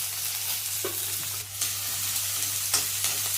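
Chopped onion fries with cumin, mustard seeds and curry leaves for varana sambar, a dense steady sizzle close by with a few stirring scrapes and a low hum beneath, no talking.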